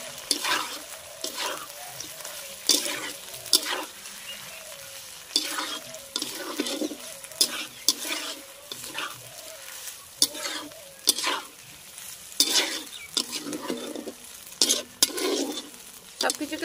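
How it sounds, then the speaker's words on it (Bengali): Duck curry with green chillies and chopped tomato being stirred in a sizzling pan, with repeated scraping strokes over a steady frying hiss, close and moderately loud, no talking. "আর দিয়ে দিচ্ছি একটা টমেটো কুচি। এবার ভালো করে মিশিয়ে নেব।"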